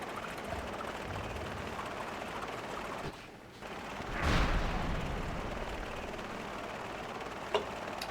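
A helicopter in a video game drones steadily throughout, with a brief dip in the middle before a swelling rotor wash and a sharp click near the end.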